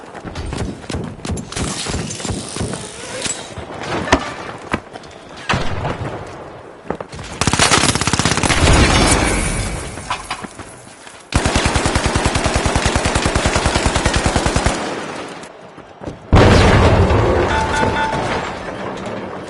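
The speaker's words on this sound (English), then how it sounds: "Pyro grenade out!" Rapid gunfire and fiery pyro grenade blasts from the video game The Finals, loud and sustained in dense bursts, with long automatic volleys broken by short pauses and no talking.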